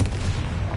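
A Confringo spell cast in Hogwarts Legacy bursts out as a dense, rumbling blast of fiery noise, loud and sustained through a brief moment with no voices.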